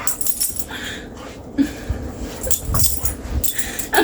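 A large, roughly 70-pound dog whimpers and whines in short, uneven bursts close by, mixed with clinking and rustling household noise throughout.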